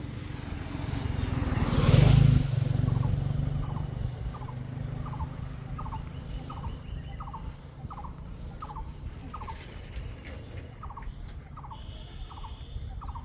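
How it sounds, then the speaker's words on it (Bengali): A turkey gobbles in a village in the morning, giving a long run of short, evenly spaced rapid calls at moderate distance. A motorcycle roars past near the start. "লক্ষ্য করুন, কোনো একটা পাখি ডাকছে"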